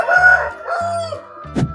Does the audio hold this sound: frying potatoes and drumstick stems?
no